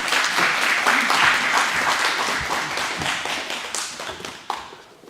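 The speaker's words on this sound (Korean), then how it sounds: "우리 하나님께 영광의 박수로 모셔보겠습니다." Audience in a church hall in Venice gives a sustained round of applause welcoming a visiting pastor, dense steady clapping that tapers off toward the end with a few last claps.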